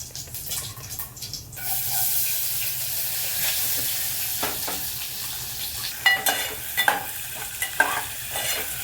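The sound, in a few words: onion frying in oil with roasted whole spices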